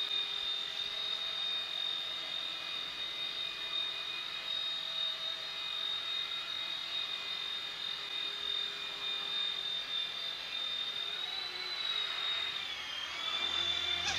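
A SYMA F3 remote-control toy helicopter hovers nearby, its small electric rotor giving a steady high-pitched whine that holds even throughout and dips briefly near the end.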